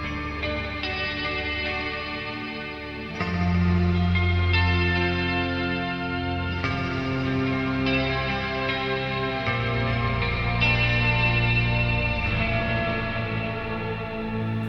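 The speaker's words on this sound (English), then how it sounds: "So I have a delay, which is really infinite, a compressor before, a reverb, really long reverb" A TC Electronic Plethora X5 pedal set for infinite delay with a compressor ahead and a very long reverb holds sustained, layered guitar chords that swell and overlap into a dense, continuous ambient wash with no talking.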